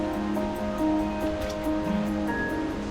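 Steady rush of a waterfall heard from a jungle path on Lombok near Durian Waterfalls, a continuous hiss with sustained tonal sounds layered over it and no talking.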